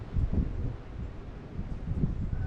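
A strong outdoor wind gust during a late-season maple syrup boil, a steady broad rush with soft buffeting against the microphone, continuing evenly throughout.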